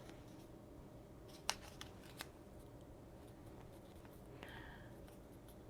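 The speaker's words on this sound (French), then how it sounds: "je vais faire la même chose avec un papier de photocopie. Je vais le plier en deux." A sheet of photocopy paper is folded in half, heard as faint, close rustling with a few crisp creasing snaps against a quiet room background.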